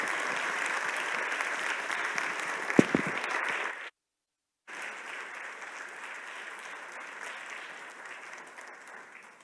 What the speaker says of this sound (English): please join me in giving not just a round of applause, but a round of thanks to Vanita